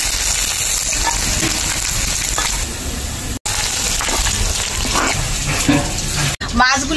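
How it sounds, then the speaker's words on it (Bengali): River fish frying in hot oil, giving a loud, steady, close-up sizzle throughout, with brief stirring clatters and two short dropouts. "আর যে মাছগুলি আছে একইভাবে তেলে ভেজে নেব।"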